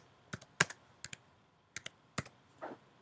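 Computer keyboard keys clicking as code is typed in R, a few separate sharp taps and short bursts spaced irregularly, close up and fairly quiet with no talking.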